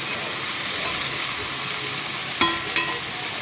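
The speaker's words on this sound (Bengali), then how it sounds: "এপাশে আলু ভাজা বসিয়েছি, আলুটা ভেজে নেব।" Potatoes frying in a pan for a home-cooked lunch, a steady broadband sizzle throughout with a couple of brief sharp clinks or stirs near the end; no talking.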